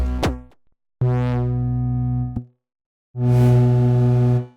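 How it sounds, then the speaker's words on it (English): Three bursts of deep bass notes from a Moog bass synthesizer plugin, each a sustained buzzy tone separated by brief silences; the first bends downward, the last sounds grittier and brighter. "it's a bass synthesizer, but it has actually a lot of different types of basses in it"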